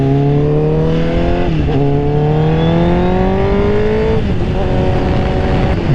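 Honda CBR1000RR sport bike accelerating hard on an open road, its loud, steady engine whine climbing in pitch and dropping twice at gear changes.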